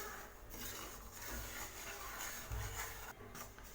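Semolina being stirred and roasted in ghee in a pan over a low flame, giving a steady, close scraping and rubbing texture throughout with no talk.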